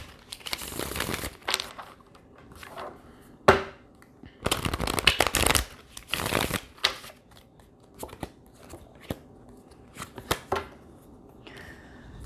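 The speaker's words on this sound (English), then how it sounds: "2 more shuffles." Tarot cards shuffled up close by hand, with several loud papery riffling bursts separated by quieter taps and rustles, and no talking.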